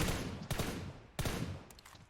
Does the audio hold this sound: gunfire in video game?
yes